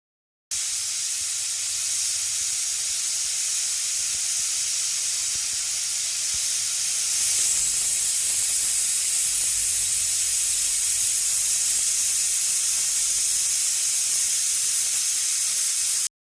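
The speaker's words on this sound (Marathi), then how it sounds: "मी इथे कुकरच्या पाच शिट्ट्या घेतलेल्या आहे" Steady, loud hiss of escaping steam runs almost unbroken throughout, a pressure cooker whistle venting while cooking raw mango, with no voices.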